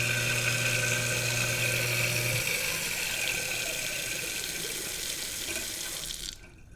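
Tap water runs steadily into a kitchen sink fitted with a garbage disposal, a continuous close splashing hiss, with a low motor hum in the first few seconds, then the flow cuts off near the end.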